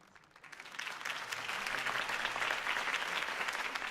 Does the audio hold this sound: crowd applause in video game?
yes